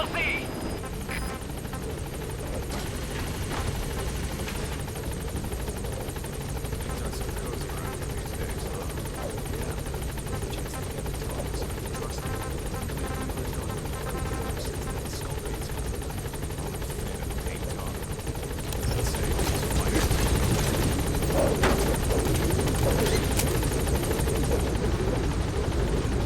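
Helicopter in the Metal Gear Solid V game arriving at a landing zone, a steady rotor and engine drone throughout that grows louder near the end, with radio-style voices speaking over it.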